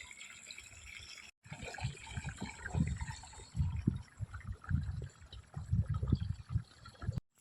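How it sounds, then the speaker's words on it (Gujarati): Water is sprinkled onto the ground, splashing and pattering onto a hard surface in uneven bursts, close by and fairly soft, with a brief gap near the start. "હું અહીંયા પાણી છાંટી દઉં થોડુંક"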